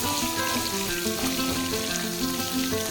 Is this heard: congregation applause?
no